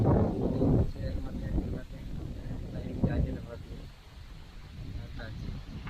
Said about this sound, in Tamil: அடிக்குது, செம்ம காற்று அடிக்குது.